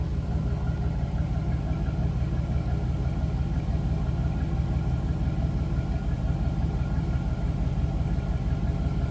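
A 2003 Chevrolet SSR roadster pickup with a stock engine idles steadily, a smooth, even low rumble close by with no revving and no voices.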